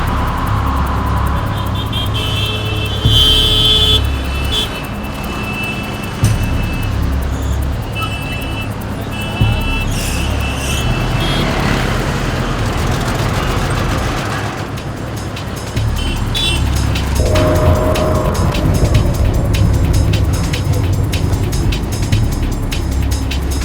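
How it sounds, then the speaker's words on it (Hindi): Car being driven, a continuous close engine and road rumble filling the whole stretch with shifting tone, under occasional speech and other background sounds. "गाड़ी को मुर्दा घर के पीछे ले चलो।"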